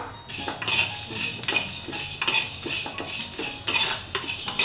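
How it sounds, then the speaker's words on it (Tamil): Coriander seeds dry roasting in a pan for a Madurai-style mutton chukka masala powder, stirred with a utensil: continuous rattling and scraping of seeds and metal, loud and close, with no speech. "இதையும் நல்லா வாசம் வர்ற வரைக்கும் வறுத்துக்கலாம்."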